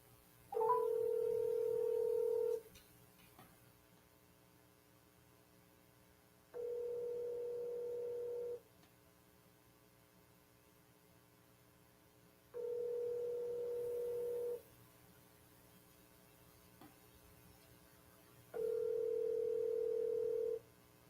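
Ringback tone of an outgoing phone call to a sales lead, four evenly spaced ring pulses about two seconds long separated by quiet gaps, clean and steady.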